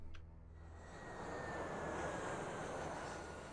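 In the strategy game Alpha Centauri, an aircraft's engine drones steadily with a broad roaring hum. It swells a little louder partway through and holds, with no voices.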